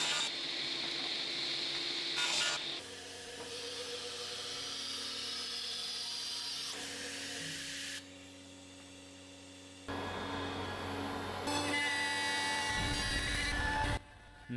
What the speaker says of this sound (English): we brought them back to the saw to trim them down to their final dimensions